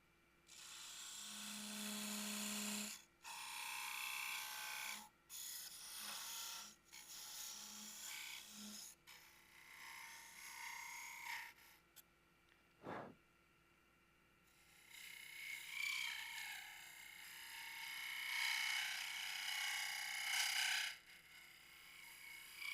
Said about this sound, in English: I'm actually cutting with 2. I'm cutting with this, and I'm cutting with a side